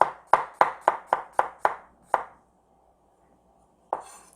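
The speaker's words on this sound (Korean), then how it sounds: "이렇게 편 썰어 주셔도 되고요." A knife slices vegetables on a cutting board while preparing mapo tofu ingredients, giving eight sharp, evenly spaced chops up close, then a pause and one final chop, with no talking.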